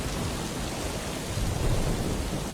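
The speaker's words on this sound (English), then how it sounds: "It's so stormy" Heavy rain pours down in a dense, steady roar, with a low rumble underneath and no voices.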